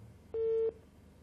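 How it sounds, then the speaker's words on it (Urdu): A phone line gives a single steady busy-tone beep lasting about a third of a second after a call drops, sounding clear and mid-level against faint background hiss. "کال ڈراپ ہو گئی ہے جی."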